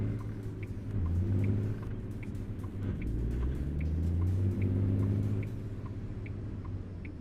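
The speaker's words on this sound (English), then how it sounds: "At least on stream, the truck's louder." A truck engine in a driving video game rumbles low and steady, swelling briefly as it revs and settling back into a continuous drone, with no one talking.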